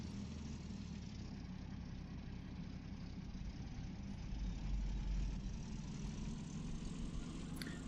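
A tractor engine idles in the Farming Simulator 2013 video game, a steady low rumble holding for the whole stretch and swelling briefly partway through, with no talking.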